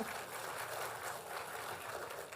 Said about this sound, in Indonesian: Tepuk tangan untuk Pak Anies Baswedan.